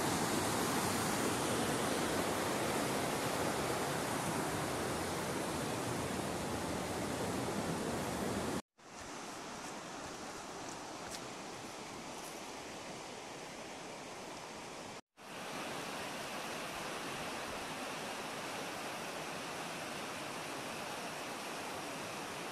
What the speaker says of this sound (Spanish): Van ràpids, van ràpids.